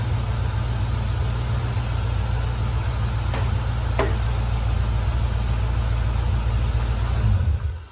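A Nissan 280ZX with a swapped 5.3-litre LS V8 idles with a deep, steady low rumble, a couple of faint clicks partway through, then the sound cuts off at the end.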